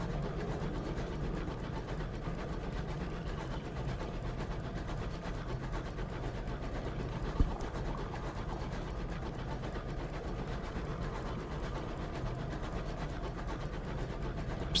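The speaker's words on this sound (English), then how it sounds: "Just the gentle chugging of our engine" A steady, low mechanical chugging drones without a break from a ship's engine in the video game Sunless Skies, a soft continuous rumble with one small bump partway through and no voices.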